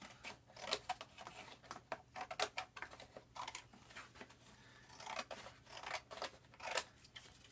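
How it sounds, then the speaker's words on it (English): Scissors snip through cardboard to cut out a triangle shape, a quiet, close series of short crisp cuts in an uneven rhythm. "So I'm going to draw out that triangle and I'm going to cut it out."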